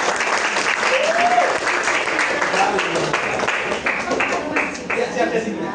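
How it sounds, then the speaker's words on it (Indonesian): Classroom applause, steady clapping from a group of students that lasts throughout, with voices and chatter mixed underneath. "Gue tepuk tangan dulu."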